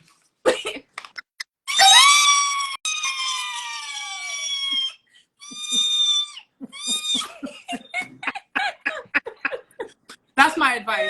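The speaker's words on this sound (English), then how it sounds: "Replay his squealing." A man's recorded squealing played back: high, wavering squeals and shrieks in repeated bursts with brief pauses, loud and close, mixed with laughter-like yelps.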